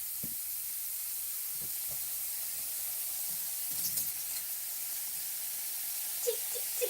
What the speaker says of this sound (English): I'm just going to remove this in the frying pan. This is the sound you want to hear